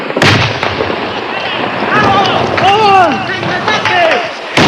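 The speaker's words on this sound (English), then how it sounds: "Automatic weapons fire, grenades, and mortars awaken the people of Usulután." Automatic weapons fire, grenade blasts and mortar explosions in a besieged Salvadoran city at dawn, 1988: sharp bursts and booms, some near and some distant, over a constant noisy background while voices call out across it.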